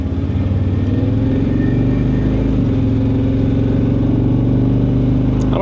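A car taken around the block on a test drive, its engine and road noise forming a loud, steady drone that holds without a break from start to finish, with no voices.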